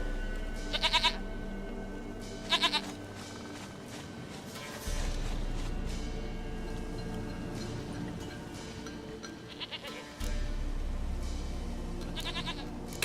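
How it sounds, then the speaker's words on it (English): Goat bleating in the video game The Witcher 3, two short quavering bleats early on and another pair later, over a steady low ambient game background with no talk. "Goat of mine, dearest, sweetest goat."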